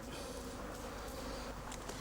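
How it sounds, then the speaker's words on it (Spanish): Honey bees buzz around traditional cane hives sealed with cow dung, a continuous, fairly faint swarm drone with no talking. "las abejas se ponen cada vez más furiosas"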